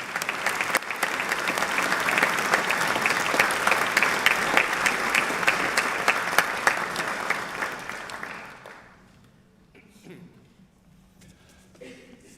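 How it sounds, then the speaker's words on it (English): Audience applause at a university graduation ceremony honouring an honorary doctorate recipient, a dense sustained roomful of clapping that fades out after about eight seconds into near quiet. "this is the bit where you're supposed to clap"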